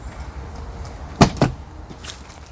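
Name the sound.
vehicle door being opened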